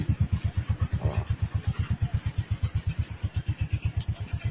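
Honda Wave Alpha motorcycle engine running after a push start, following an engine performance restoration, a loud, close, rhythmic thumping idle with regular pulses and no talk.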